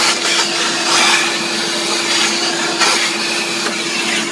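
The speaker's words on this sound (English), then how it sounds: "we're going to vacuum up our shavings here" A shop vacuum sucks up metal shavings from drilling a hole in a Camaro while installing a power steering cooler, a steady droning whine with brief rattling surges as debris is pulled in, close and loud throughout.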